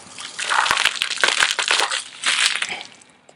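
Mentos candy dropped into a soda bottle outdoors sets off a loud, close fizzing eruption, a rushing spray with crackling bursts and splatter lasting a few seconds before tapering off.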